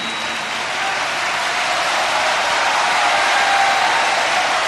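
A crowd claps continuously during a Jain pravachan led by Muni Sudhasagar Ji, broad and loud, holding steady and swelling slightly toward the end with no voices standing out.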